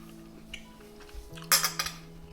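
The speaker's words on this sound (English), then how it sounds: "Go ahead and cut this steak, give it a taste, and see what it tastes like." Knife and fork on a plate while cutting a filet mignon steak topped with fresh grated parmesan: a quiet lead-in, then a cluster of bright clinks and scrapes near the end, close and fairly loud.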